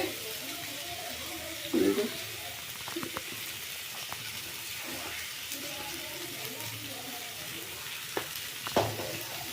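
Spices and horse gram fry in a pan with a soft, steady sizzle, joined by occasional stirring and scraping knocks, quiet and close throughout.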